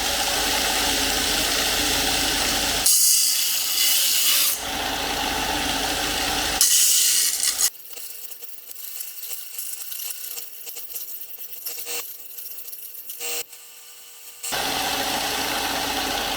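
An angle grinder with a cutting wheel roars loudly in bursts, dropping to quieter rasping and cutting noise in between before surging again, during restoration welding work on a 1982 air-cooled VW Vanagon Westfalia.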